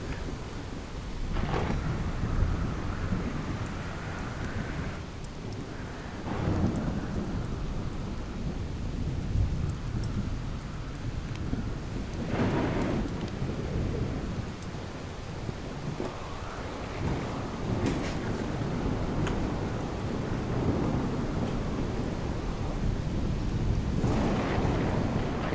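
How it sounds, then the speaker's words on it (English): A big thunderstorm with heavy rain in the survival game The Solus Project: constant hissing downpour and wind, with deep rumbling thunder rolling in several times throughout, loud and steady. "Ooh, big thunderstorm."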